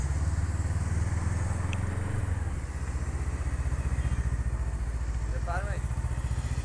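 A motorcycle engine idles and runs steadily up close while the rider parks outside a Zoroastrian fire temple in Yazd, Iran, a continuous low drone with a brief voice near the end.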